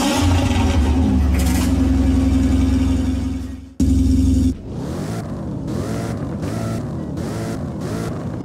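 A 2011 Jaguar XKR idles with a steady low engine drone in a Roblox driving game, cuts off briefly, then restarts and settles into a series of rising and falling revs, fairly loud and without speech.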